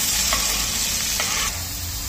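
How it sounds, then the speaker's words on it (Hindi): Cumin seeds and onion sizzling in hot oil in a pan, a steady loud crackling fry with a couple of brief stirring scrapes. "अब हम डालेंगे इसमें जीरा 1 चम्मच, इसके साथ साथ हम इसमें डालेंगे प्याज।"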